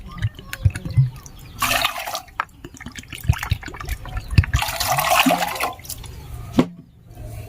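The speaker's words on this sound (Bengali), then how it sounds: "সেই সাথে দিয়ে দিচ্ছি চার কাপ জল" Four cups of water splash and gurgle into a pan with a cup of sugar, making uneven pouring bursts and drips at close range while rasgulla syrup is being prepared.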